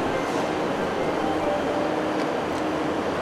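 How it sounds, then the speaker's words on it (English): A passenger train travelling north of Inverness toward Brora rumbles with a steady, continuous interior roar and low rolling drone throughout. "today we are taking the train north of Inverness to the town of Brora"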